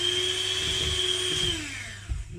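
An electric whisk whirs steadily through a cheesecake mixture, a loud close high-pitched motor drone that winds down near the end with a brief knock.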